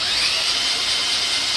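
A power drill turns a seized Exmark mower engine, whining in a steady, continuous high drone at close range with no breaks.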